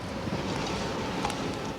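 Strong wind roars steadily and close at the top of a tall industrial chimney, a continuous broadband rush of air with no voices.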